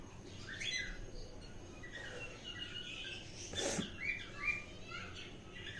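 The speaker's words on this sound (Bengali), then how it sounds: "এই পাখি" Several small birds chirp and squawk in short bursts, fairly faint and a little distant over a low, steady background, with a livelier cluster of calls near the end.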